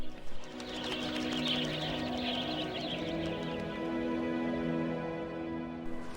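Migratory birds in the Chambal valley call with soft, repeated cooing tones over a steady bed of chirps and outdoor hiss, continuous and moderately distant throughout.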